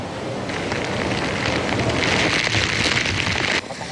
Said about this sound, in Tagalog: Pabugso-bugso ang malakas na ulan sa Baler, Aurora. Sinasabayan ito ng malakas na hangin.